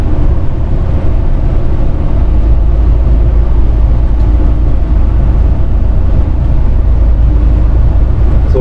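A truck pulling a trailer drives along, giving a loud, constant low rumble with steady rattling and knocking from the rig throughout, and no voices.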